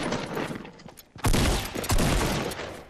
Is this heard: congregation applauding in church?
no